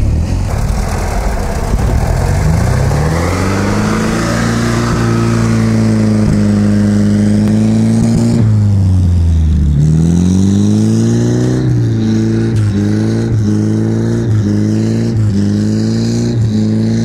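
An Opel Frontera engine revs hard while the SUV climbs a quarry slope off-road, a loud continuous drone that rises and falls in pitch as the throttle works, close and alone without talk.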